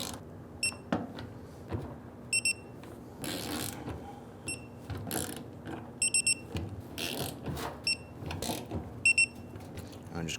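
Torque wrench tightening the fuel pump module bolts on a 1994–2004 Ford Mustang, giving several short bursts of sharp ratcheting clicks at irregular intervals over low shop background noise.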